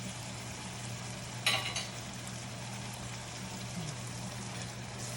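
White truffle oil going into a sizzling pan, giving a steady close frying hiss with a brief louder splash of stirring or pouring partway through, against a low background hum.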